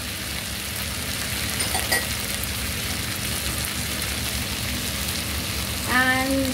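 Chicken frying with mashed chilli in a pan, a steady close sizzle broken by a couple of brief utensil clatters as it is stirred.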